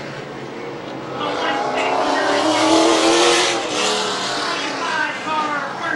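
Late model race cars roll out onto a speedway track, engines rumbling and swelling as they pass, while an announcer talks over the PA throughout.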